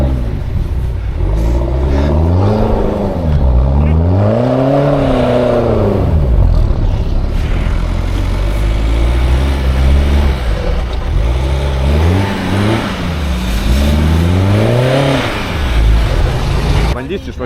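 A manual-transmission car stuck on the spot, its engine revving up and down repeatedly as the driver tries to drive out, loud and close, with people talking over it.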